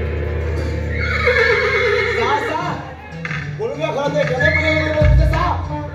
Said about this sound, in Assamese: নাৰায়ণ ঘৰৰ পৰা বহু মানুহ আনিল কিন্তু কোনেও ঘোঁৰাটো কাবু কৰি ৰাস্তা বলত ঘূৰাব নোৱাৰিলে